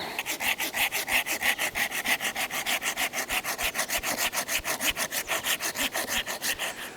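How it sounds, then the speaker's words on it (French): Hand saw cutting through hard resinous fatwood near a tree trunk, a loud, steady, rhythmic rasp of back-and-forth strokes, close and continuous with no talking. "Et c'est ce qui fait que ça va être dur à scier."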